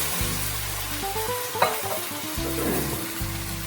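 Whole tomatoes with their sauce go into a hot pan for a simple Italian pasta, giving a close hiss and sizzle with a sharp scrape of stirring midway and no voices.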